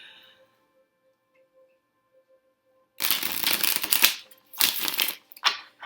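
A deck of tarot cards being shuffled: a quiet opening, then several loud, crisp riffling bursts close by, separated by short pauses.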